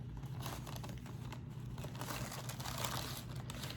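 The plastic wrapping of a sterile dressing kit crinkles and rustles as it is handled, a soft, close, continuous crumpling with small crackles, quiet and without talk.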